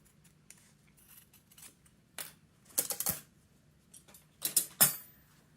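Scissors cut fabric for a sugar cookie pot holder, making close, crisp snipping bursts in small clusters with quiet gaps between them and no talking.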